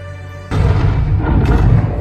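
A torpedo explosion in an Avatar film strikes a sacred bay: a sudden heavy boom followed by a loud, sustained roaring rumble that swells again near the end.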